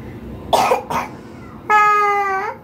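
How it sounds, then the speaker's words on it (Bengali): Two sharp coughs from a child close to the mic, then a sustained crying wail with strong harmonics, short and loud. "এই যে কাশতেছে।"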